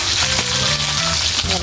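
Fish fries in a pan of hot oil, giving a loud, continuous crackling sizzle with dense popping spatter heard up close and alone.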